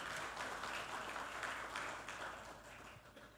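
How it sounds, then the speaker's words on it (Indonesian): A crowd at the ESG Now Award 2025 ceremony claps for an honoured guest. The individual claps are distinct at first, then the applause gradually thins and fades toward the end. "Boleh tepuk tangan."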